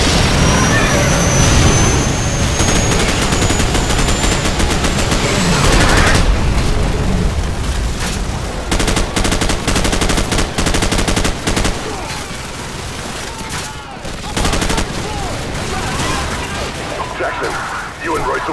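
Dense gunfire in Call of Duty 4: Modern Warfare's 2007 Bog mission, with rapid machine-gun bursts and booms over a night battle, loud throughout, mixed with shouted soldier voices and game effects.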